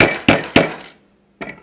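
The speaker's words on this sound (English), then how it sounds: "now we're going to hammer that down in there." Two sharp hammer strikes drive high-tensile wire into a handmade mouse trap, evenly spaced and close, then a short silence before a lighter tap or clatter, with no talk.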